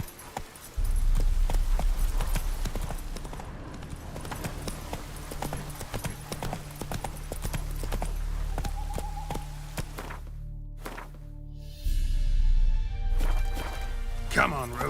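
Roach, the horse in The Witcher 3, gallops with rapid, rhythmic hoof clops that start abruptly, run steadily, pause briefly, then resume, with a voice speaking over them.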